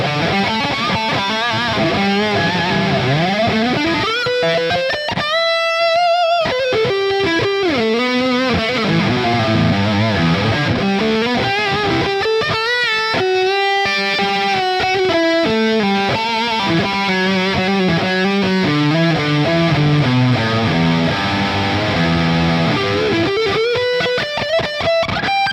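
A loud distorted electric guitar through a Line 6 Pod Express plays a continuous lead line with bends and sustained notes, washed in reverb and echoing delay, with no voices.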